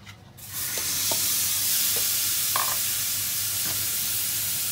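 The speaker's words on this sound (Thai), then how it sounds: "เฮาคั่วบักเล่นจ้ะ คั่วบักเล่น" Tomatoes dry-roasting in a pan for a Thai-Lao tomato chili dip, giving a steady, close sizzling hiss throughout with a few faint clicks and stirring scrapes, and no talking.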